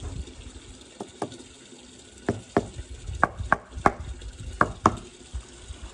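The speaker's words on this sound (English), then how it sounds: "now tap into the corner, tapping it that way so you get a good tight fit" Hammer taps a patio paving slab into a corner for a tight fit, about a dozen sharp knocks, spaced irregularly at first and then quicker, close and fairly quiet over faint outdoor background.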